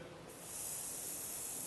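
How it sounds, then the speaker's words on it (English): Spray paint can hissing onto wood, a steady broad spray that starts softly and swells to a loud continuous rush for over a second, close by. "If you've ever sprayed something with a spray bomb"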